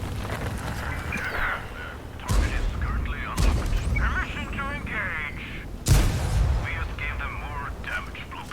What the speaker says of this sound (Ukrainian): Ще й арта по нас кидає.